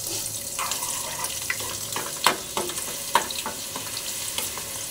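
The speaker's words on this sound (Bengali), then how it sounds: "এবার কাঁচা লঙ্কা, কালো জিরে, রসুন দিয়ে দিলাম।" Green chillies, nigella seeds and garlic, added after dried red chillies, sizzling in hot frying oil: a constant close sizzle broken by scattered sharp pops and crackles, with no voices.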